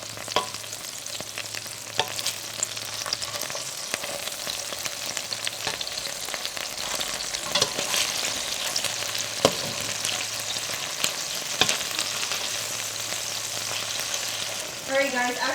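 Food sears in a pan over low heat, a steady broadband sizzle with occasional spatters and a faint clink near the end, no talking.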